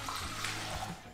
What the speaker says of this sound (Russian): Выливаем в сотейник пол-литра воды.